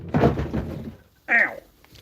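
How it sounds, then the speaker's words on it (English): A drawer falling out, giving a soft thunk with a short clatter, then a second brief knock a moment later, close and fairly quiet in an otherwise still room. "Oh no, the drawer just fell out."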